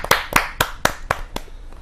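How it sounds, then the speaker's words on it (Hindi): Six distinct hand claps in a steady rhythm, close and fairly loud, at a Hindi poetry gathering as a poet is welcomed to the stage, with no talking. "जोरदार तालियों के साथ अनिल जोशी जी का"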